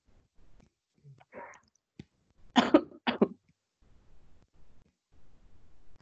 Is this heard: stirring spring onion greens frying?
no